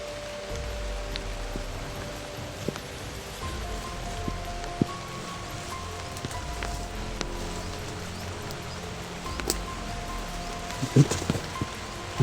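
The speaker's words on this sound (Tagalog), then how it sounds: "Grabe ang lakas ng ulan mo bro." Heavy rain falls steadily in a wide, hissing wash with scattered drops and knocks, and low rumbling underneath throughout.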